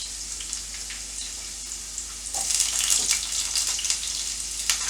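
Water is drained from cooked food in a kitchen, a close steady hiss and splash that grows louder and more turbulent partway through, with no talk.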